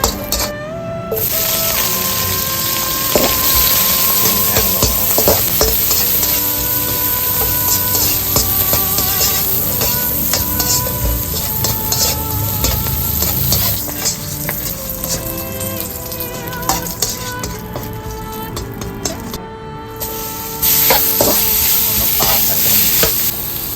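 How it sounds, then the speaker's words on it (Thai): Shallot or garlic heads fry in oil over medium heat with a loud, continuous sizzle. A utensil stirs and scrapes the pan again and again, and the sizzle drops out briefly twice. "ทอดหัวไปก่อนนะครับ ค่อยๆนะฮะต้องคนก่อนนะครับไฟกลาง"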